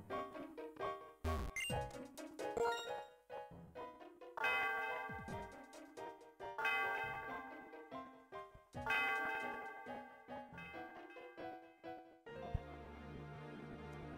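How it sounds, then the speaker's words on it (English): Bell ringing at the Celestial Tower in the video game Pokémon Black, heard as a series of bright chiming tones with tinkling overtones over in-game music, each strike ringing out and fading. "The sound of the bell reverberates through the area."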